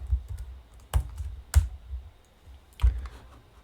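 A Google Sheets query formula being typed on a computer keyboard: a few sharp key clicks spaced irregularly over a low background hum, close and fairly quiet, with no talk.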